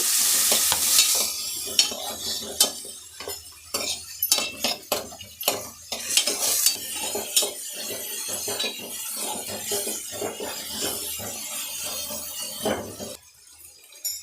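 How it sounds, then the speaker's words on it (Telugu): Tomatoes and onions sizzle steadily in a hot pan while a spoon stirs and scrapes them in repeated strokes. The frying is close and fairly loud, and it thins out briefly near the end. "ఆనియన్ బాగా ఫ్రై అయింది, టమాటోలు వేసుకుంటాము. టమాటో కొంచెం బాగా ఫ్రై కావాలా."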